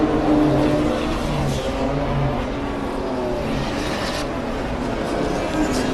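BMW race cars on the Zwartkops circuit in South Africa, engines roaring steadily and loudly as the cars brake and accelerate in close racing, with a commentator talking over the engine noise.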